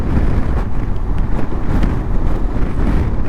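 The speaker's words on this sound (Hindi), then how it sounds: "बहुत तेज़ हवा चल रही है।" Strong wind, estimated at over 30 km/h, buffets the microphone on a mountain road from Babusar to Chillas, a loud continuous rumbling roar with gusty surges and no pauses.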